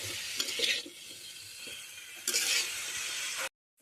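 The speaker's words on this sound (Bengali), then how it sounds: "সামান্য একটু চিনি দিয়ে দিলাম, কিন্তু ভালো করে নাড়তে হবে।" Banana stem curry fries in a pan with a steady sizzle while a utensil stirs and scrapes, louder surges at the start and near the end before it cuts off abruptly.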